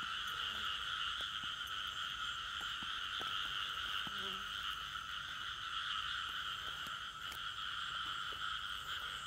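Frogs croak steadily in a field at night, a dense, continuous chorus of calls with faint scattered clicks and rustles underneath.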